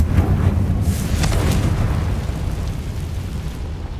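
A Confringo fire spell bursts in Hogwarts Legacy, a loud sustained rumbling blast with crackling bursts that stays dense and booming throughout, no voice over it.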